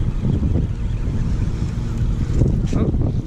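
Steady wind buffets a small fishing boat out on the water, a constant low rumble and rush with gusty swells and faint water movement throughout, no voices.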